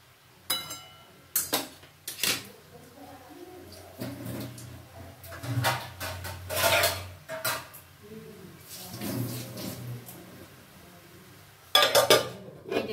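A lid goes onto a cooking pot of bottle gourd and lentils, with metallic clanks and sharp knocks at intervals among kitchen clatter, and a pigeon cooing faintly in the background.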